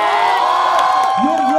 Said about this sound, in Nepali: एकदम जोरदार ताली साम्राज्ञीजी र विजयजीको लागि